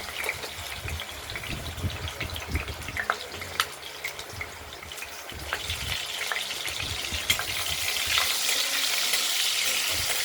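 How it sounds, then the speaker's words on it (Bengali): Potatoes fry in hot oil in a pan with a constant crackling sizzle, broken by stirring clatter and scraping, with the frying growing louder and hissier toward the end. "আলুটাই আগে আমরা ভেজে নিচ্ছি।"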